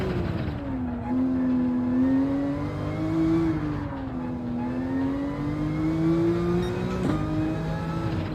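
A Porsche engine in Gran Turismo 7 racing at Laguna Seca revs hard and continuously, its pitch rising and dipping through gear changes, loud and close with no talking.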